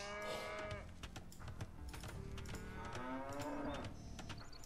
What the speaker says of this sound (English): we got a few cows here to grab